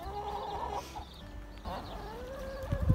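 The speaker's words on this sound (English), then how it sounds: "a whole lot of griping, hungry hens" Hens clucking and griping close by as a broody hen brings her young chicks out to the flock, a steady chorus of overlapping calls with louder squawks near the end.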